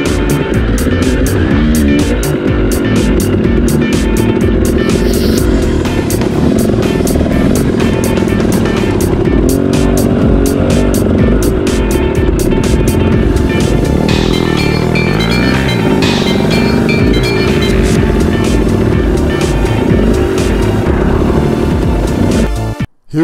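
Enduro motorcycle ridden along a transfer section at a ranch enduro event, captured from a helmet camera: a loud, continuous engine drone with shifting revs and wind noise throughout, cutting off abruptly at the very end.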